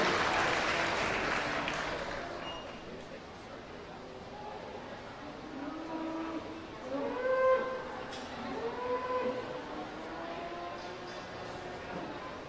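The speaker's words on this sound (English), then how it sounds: "Let's have a round of applause for all of our Bred and Owned Steer exhibitors" Applause from the crowd at a county youth fair livestock show fades out over the first few seconds, then cattle low and moo repeatedly at middle distance, with overlapping calls and a faint background murmur.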